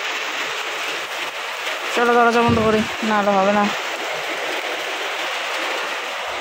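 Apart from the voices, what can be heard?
heavy rain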